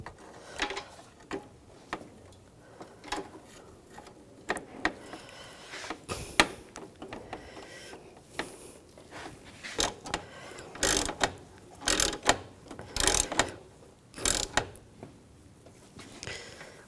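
A ratchet tightens an AC condenser line bolt on a BMW 550i, heard as scattered close mechanical clicks and short ratcheting bursts with clanks in between, growing busier and louder toward the end.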